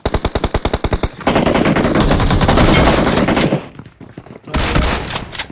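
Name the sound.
shotgun fire in the video game BGMI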